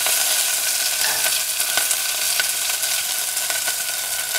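Onion, green chili, curry leaves and cashews fry in hot oil with a loud, steady sizzle, broken by a few brief stirring clicks, no voices.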